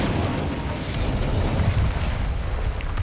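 The Incendio fire spell cast in a Harry Potter wand mastery game, a sustained roaring, crackling burst of flame that stays loud and steady for about three seconds.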